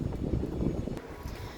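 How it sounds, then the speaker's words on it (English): Strong wind from Cyclone Biparjoy gusting around a home with closed windows, a steady low roaring rush that buffets and slowly eases, with no voices. "it's very windy right now, so I've kept those windows closed"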